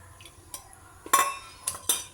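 Metal clanks and scrapes as an iron frying pan is set down on a stovetop, a few sharp knocks with ringing overtones, close and isolated.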